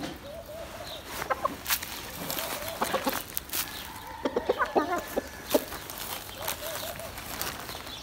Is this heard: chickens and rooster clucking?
yes